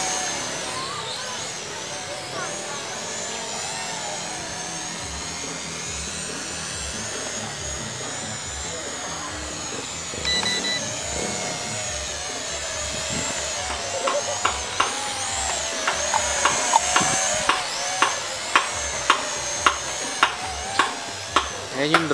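A small toy drone's high-pitched whirring motor drones steadily, its pitch rising and falling, with wind buffeting and sharp rhythmic clicks near the end.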